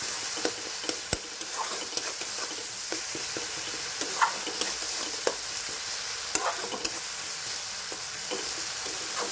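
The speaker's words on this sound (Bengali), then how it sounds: "সেই পেস্টটা দিয়ে দেব। একটু নাড়িয়ে নিই আরেকবার।" Spice paste and tomato fry in a pan with a soft, steady sizzle, while a spoon stirs and scrapes, giving scattered light taps and clicks at close range.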